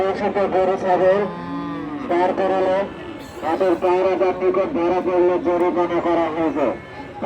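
Shahiwal cattle at a livestock market in a border area moo in several drawn-out calls, loud and close, with people talking over and between them.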